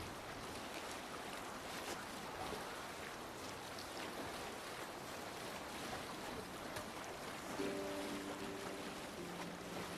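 A Viking longship under sail on the sea in Assassin's Creed Valhalla, a soft, steady wash of waves and water rushing past the hull with faint wind, quiet and continuous, and a faint tonal hum late on.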